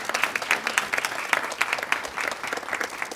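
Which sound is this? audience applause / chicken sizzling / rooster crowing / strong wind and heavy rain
audience applause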